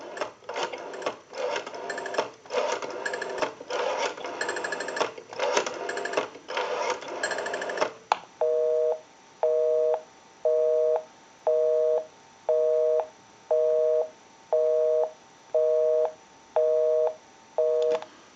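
Rapid clicking bursts of an ITT 554 rotary wall telephone's dial spinning and returning for several seconds, then a repeating beep-beep busy signal of evenly spaced tones from the handset.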